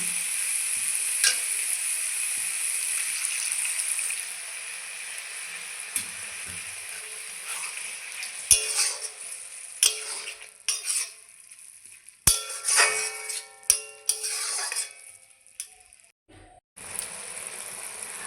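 Banana flower with spices sizzling in a pan after water is poured in, a steady bright hiss broken by scraping, clattering stirs of a spoon against the pan, no talk.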